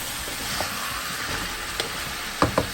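Chopped onions sizzle and crackle in a pot as butternut squash soup starts, with a steady frying hiss broken by a few brief scraping stirs near the end.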